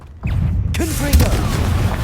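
Confringo fire spell blasting in Hogwarts Legacy: a sudden heavy boom after a brief near-silent gap, followed by a sustained roaring, crackling rumble with voiced grunts over it.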